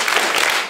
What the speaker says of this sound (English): clap once, clap twice, clap 3 times